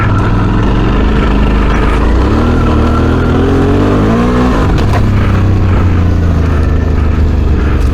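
An adventure motorcycle engine revs hard and close while the rear wheel spins on a slippery dirt track, the roar climbing in pitch, dropping sharply, then holding a loud steady drone.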